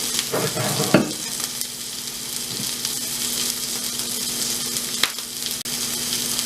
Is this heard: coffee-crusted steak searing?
yes